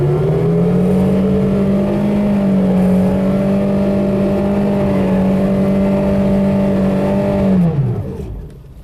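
An old beater car with snow left on it runs through snow, its engine droning in a loud, sustained rev that holds steady for several seconds before falling away abruptly near the end, with no talk.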